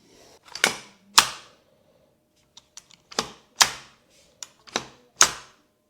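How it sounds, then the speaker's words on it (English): An AR-type rifle fitted with a Hellfighter kit, its bolt carrier striking a Magpul magazine follower: about seven sharp, close metallic clacks in irregular pairs and singles, separated by near silence. "The bolt carrier hits the follower and stops, failing to return forward."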